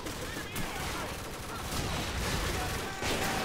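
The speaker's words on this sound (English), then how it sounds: "I still hear more grenades kicking." Dense, continuous combat din of gunfire and explosions from Call of Duty 4: Modern Warfare on Veteran difficulty, loud and unbroken throughout with grenade blasts swelling at intervals.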